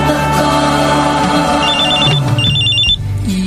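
A telephone rings loudly and close with a repeating electronic trill in two bursts, over a bed of dramatic background music in a radio drama.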